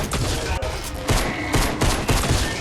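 Automatic gunfire in the Fortnite video game: a dense, loud stream of rapid shots with bursts recurring roughly every half second, a voice faintly present underneath.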